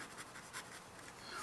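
An Arnold fountain pen and pencil combo scratches across paper, a very faint, soft scratching with light rhythmic strokes and no talk.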